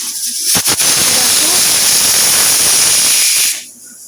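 A pressure cooker cooking bitter gourd with jackfruit seeds blasts out a loud, continuous hiss of escaping steam for about three seconds after a couple of sharp pops, then cuts off abruptly.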